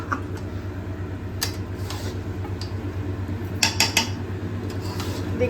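A cook works pots and utensils while cooking goat meat, with sparse metallic clinks and scrapes over a steady low hum, close and moderately quiet.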